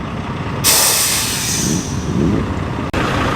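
A Leyland truck pulling away, a sudden loud air brake hiss bursting in and holding as the engine rumbles, then a sharp cut and a second brief release near the end.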